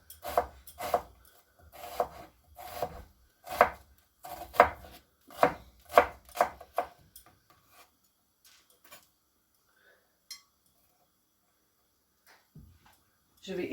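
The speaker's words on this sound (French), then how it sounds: "Donc là, vous voyez, je coupe mon oignon." Onion chopped with a knife on a board, a run of about a dozen crisp, close thuds in an uneven rhythm, then quieter scattered taps and near-silence, and no talk over it.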